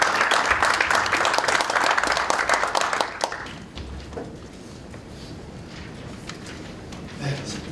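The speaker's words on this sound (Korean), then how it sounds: "뜨거운 박수 부탁드리겠습니다." An audience at the launch ceremony of a Korean Democratic Party special committee on climate change and energy transition applauds loudly and densely for about three seconds. The clapping then dies away into quiet room murmur with a few scattered claps.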